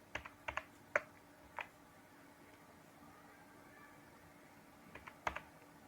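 Sparse clusters of keystrokes on a computer keyboard, quiet and close, a few taps near the start and another short burst toward the end, with no talking.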